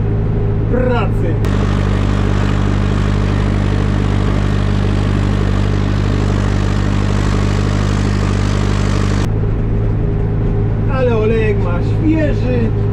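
Lawn tractor engine straining uphill while mowing a grass-clover mix, a loud steady droning roar heard up close, with brief talk at the start and end.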